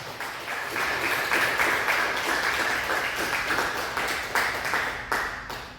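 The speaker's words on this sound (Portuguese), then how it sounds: "Diga a glória a Deus e vamos aplaudir a Jesus." A church congregation applauds in a dense, continuous wave of clapping that holds steady for several seconds, loud and close, with no voices over it.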